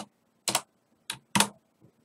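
Keys clack on a computer keyboard while code is entered, three or four distinct crisp keystrokes spaced irregularly, close and clear against near silence.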